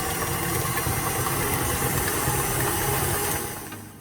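Electric mixer beating cookie batter with egg in a mixing bowl, a loud steady motor whir that runs evenly before easing down at the end, no voices.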